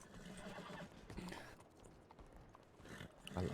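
A horse's hooves clip-clop in the western roleplay video game RedM, a quiet, uneven run of soft hoof knocks over a low, busy background, with no talking.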